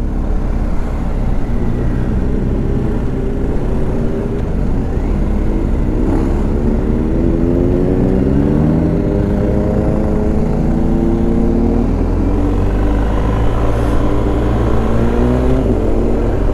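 Motorcycles in a group ride of nearly 200 bikes, including a BMW G 310 GS, roll past with a steady, loud engine drone and overlapping pitch sweeps as individual machines approach and pass.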